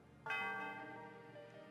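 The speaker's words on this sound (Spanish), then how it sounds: "Eco ha tocado la campana" A single church bell strike in Pokémon White rings out with a sharp attack and a long, bright, sustained decay of layered tones, heard alone.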